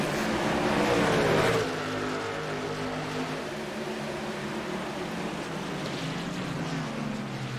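Race truck engines roar together at the green-flag start at Watkins Glen in a racing game, a loud surge of motor noise for the first second and a half, then a steady droning hum with no talk.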